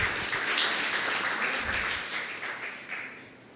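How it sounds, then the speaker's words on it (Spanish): A church congregation applauding during a sermon, a steady wash of clapping that holds fairly loud, then thins and fades toward the end. "Dele un fuerte aplauso al Rey"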